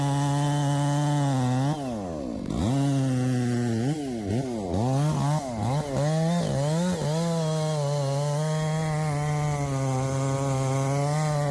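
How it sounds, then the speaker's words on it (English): A chainsaw runs loud and close, its engine bogging and revving repeatedly as it bites into a large tree, then settling into a steady high whine. "arborists and loggers must carefully maneuver the chainsaw to remove branches"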